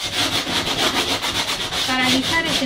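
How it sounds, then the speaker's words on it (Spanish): Sandpaper rubs steadily and loudly across a male mannequin, a continuous close scratching with rhythmic back-and-forth strokes and no talk. "Se lija perfectamente, acá derechito, va derecho, lijo derecho."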